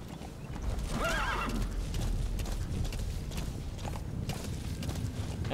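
D-Horse in the video game Metal Gear Solid V: The Phantom Pain gives a clear whinny near the start, followed by steady clip-clop hoofbeats and faint creaks, close and continuous.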